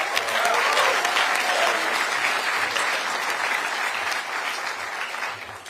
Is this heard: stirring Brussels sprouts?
no